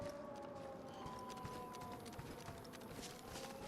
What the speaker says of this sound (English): Obviously I know it's a siren